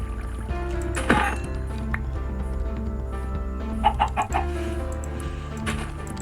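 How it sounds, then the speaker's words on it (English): Chickens cluck in a video game, several bursts over a steady background hum, fairly close and loud with no talk. "I hear a chicken."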